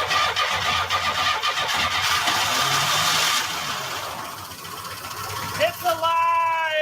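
A 1949 Studebaker Champion engine cranks over steadily, then catches and starts running, loud and close; voices break in briefly near the end.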